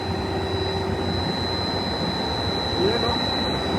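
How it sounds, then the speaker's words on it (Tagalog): A CO2 pump runs loudly and steadily in a pressurized liquid setup, a dense continuous mechanical drone with a faint high whine on top, holding at near-constant level throughout. "Ayan yung ating CO2 pump."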